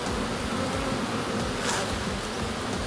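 Dense, continuous buzzing of many black honey bees swarming around an open hive frame, loud and close, with a steady drone and no voices.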